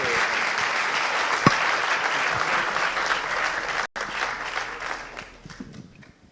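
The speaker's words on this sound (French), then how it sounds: "Oui, on va vous applaudir dans un premier temps." Sustained audience applause after a conference talk on the future of real estate, a dense even clapping from a full room that thins out and fades toward the end.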